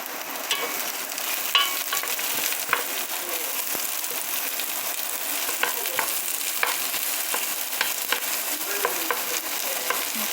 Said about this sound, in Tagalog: And then we add the onion. We cook that one a little bit.